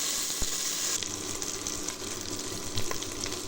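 Shrimp frying in a pan give a steady, fairly quiet sizzle and hiss, with a couple of faint clicks and no speech.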